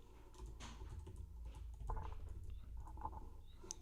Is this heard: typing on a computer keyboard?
yes